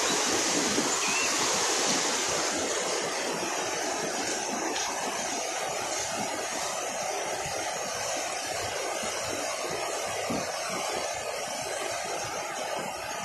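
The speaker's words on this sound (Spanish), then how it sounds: "ahí podemos apreciar el caudal del río Jequetepeque desde el puente Chilete" The swollen Jequetepeque river, seen from the Chilete bridge, rushes in a loud, continuous roar of churning water, steady throughout with no voices.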